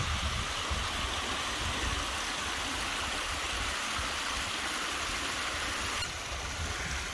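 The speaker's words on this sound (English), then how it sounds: "Another nice little waterfall there." A small waterfall on Blackden Brook, a moorland stream climbing toward Kinder Scout's northern edge in the Peak District, gives a steady, close rush of falling and splashing water that holds unbroken throughout, with no talking.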